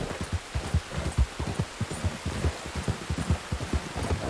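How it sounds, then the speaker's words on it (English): Rain in the video game Red Dead Redemption 2: a dense, steady patter of falling drops with soft low thumps mixed in, moderately quiet and heard on its own without voices. "Some rain coming now."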